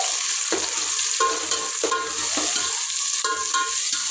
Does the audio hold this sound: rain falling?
no